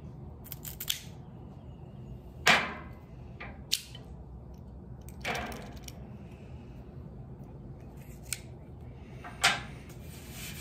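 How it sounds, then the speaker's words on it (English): Sharp clicks of a V-cutter snapping through a cigar head, several distinct crisp cuts spaced a few seconds apart over a quiet room background, no talking. "we're gonna give it a V cut, as per usual"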